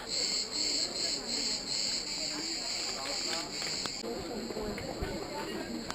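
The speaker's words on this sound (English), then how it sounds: "You can hear the crickets again." Steady high-pitched cricket chirping fills the air in a continuous pulsing drone, with soft footsteps and faint rustling underneath.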